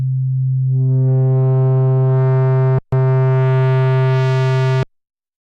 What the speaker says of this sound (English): Turn the drive all the way down. Standard sine.